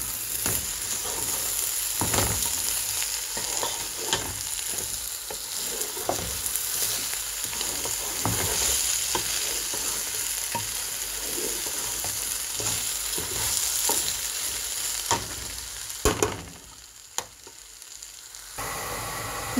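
Rice fries in ghee in a pan while being stirred, a steady loud sizzle broken by repeated scraping strokes of the spoon, close up with no talking.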